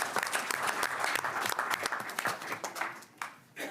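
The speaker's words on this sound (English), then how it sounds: "Now you can applaud for everybody." An audience at a school board meeting claps in a burst of steady, fairly close applause that thins out briefly before picking up again.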